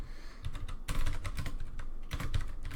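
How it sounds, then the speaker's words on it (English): Close, rapid keystrokes clatter on a computer keyboard in uneven bursts of clicks, steady and fairly quiet, with no one talking. "I'm going to go ahead and type out a register mutation to make sure this does indeed work."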